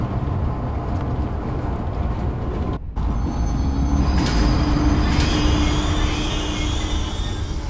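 A steady, loud rumble of a train rolling along in the video game Zoochosis, with wheel squeal and clatter, continuous throughout with a faint tonal whine joining partway.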